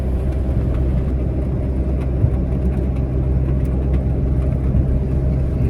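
A car engine runs steadily while driving on a road near a hill temple, a loud continuous drone with a low rumble and no talking.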